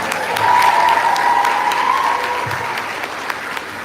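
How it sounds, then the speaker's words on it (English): Audience applause at a fashion show, a steady wash of many hands clapping at moderate loudness, sustained for several seconds with a few cheers and a brief vocal tone running through it. "Let's give them a round of applause."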